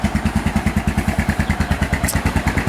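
Close motorcycle engine idling through an aftermarket DG O Series exhaust, a steady, loud, lumpy rhythmic thump of regular pulses with a faint clattering above, no voices.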